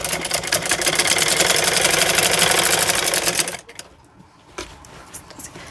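Sewing machine stitching elastic into the waistband of trousers, a fast rapid rattling run of needle strokes that stops abruptly partway, followed by quiet handling clicks and faint room sound.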